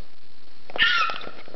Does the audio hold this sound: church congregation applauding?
no